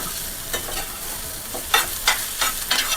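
Snake gourd and egg thoran is stirred in a hot pan with a faint continuous sizzle, while a series of quick scraping strokes comes in bursts that grow more frequent toward the end; close, with no talking.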